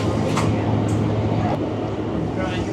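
Train rolling out of Beverley station, a steady low rumble and hum of the carriage with faint rattles, continuous and close from inside, with voices in the background.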